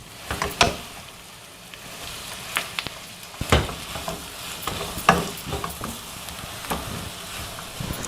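Cabbage and capsicum frying with onions in a pan, a steady low sizzle with a spoon stirring and scraping at irregular intervals, close and moderately loud, no talking.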